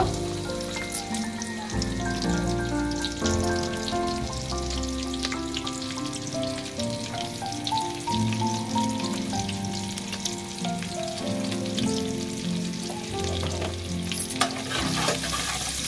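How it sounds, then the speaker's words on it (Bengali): Chopped garlic fries in butter in a pan for a cheesy white pasta, giving a continuous crackling sizzle with occasional stirring scrapes, while background music with sustained tonal notes plays underneath. "রসুন কুচিটা আমি একটু লাল করে ভেজে নিব"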